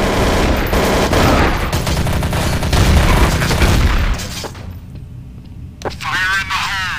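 Dense, loud gunfire rattles through a Counter-Strike: Source match for about four seconds, then thins to scattered shots, and a voice talks over the end.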